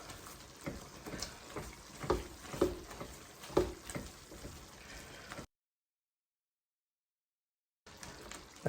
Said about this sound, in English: So we're going to go ahead and just mash our beans now.